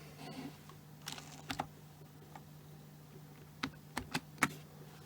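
A few quiet keystrokes on a computer keyboard, entering the Control-D shortcut in a Linux terminal: scattered light clicks in two short bursts over a faint steady hum.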